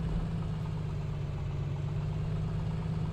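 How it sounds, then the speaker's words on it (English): Steady aircraft engine drone while taxiing in a flight simulator game, a continuous low idling hum with no voices. "Taxiing out to our runway here."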